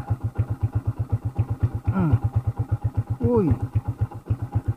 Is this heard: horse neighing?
no